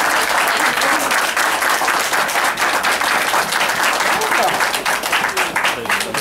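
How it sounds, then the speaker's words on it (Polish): Wedding guests in Skierniewice applaud the band with loud, continuous clapping, a full close-up roar of hands that stays strong from start to finish. "Brawa dla chłopaków."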